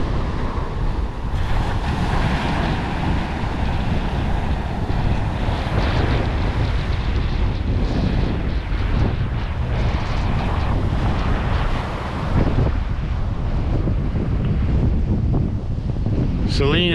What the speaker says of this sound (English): All the wind's coming out of the south.